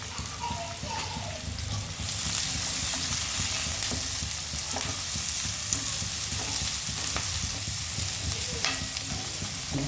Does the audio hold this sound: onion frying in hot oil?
yes